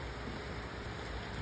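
Steady hiss of rain falling on Boracay, constant and fairly soft, with no voices.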